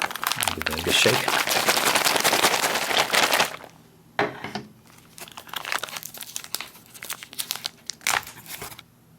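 An MRE cocoa beverage powder pouch filled with water is shaken hard, giving a loud, close crinkling rustle for a few seconds, then a few scattered plastic clicks and crackles.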